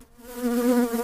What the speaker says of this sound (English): The buzzing sound you hear is caused by the rapid beating of their wings